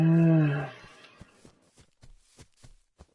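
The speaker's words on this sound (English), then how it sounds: "Oh, it's the owl." An owl-like mob call in Minecraft, a loud low harmonic hoot with a wavering pitch, followed by a series of faint scattered clicks and soft taps.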